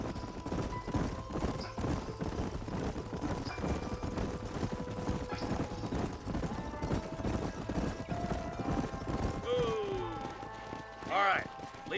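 Horse hooves clip-clop steadily in Red Dead Redemption on PS5, a group riding through a canyon with continuous rumbling under talking voices, with a short whinny near the end.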